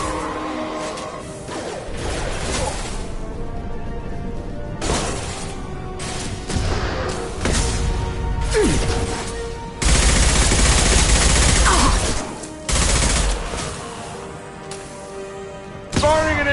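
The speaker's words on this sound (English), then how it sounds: "Firing an impact shot." Impact shots from what seems to be a video game land as a series of sharp bursts and crashes with whooshing rushes between them, loud and uneven across the clip, and a voice speaks in places.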